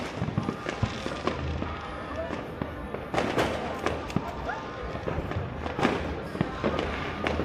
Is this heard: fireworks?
yes